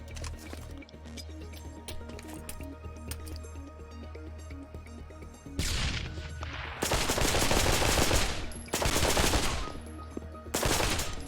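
Blind gunfire in the VR shooter game Pavlov, heard as loud, close bursts of rapid automatic shots breaking in after a quieter stretch of background game music, several bursts in a row with short gaps between them.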